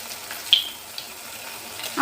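Cauliflower pakoras fry in hot oil over low heat in a home kitchen, giving a steady soft sizzle with a couple of small pops and a slight rise at the end.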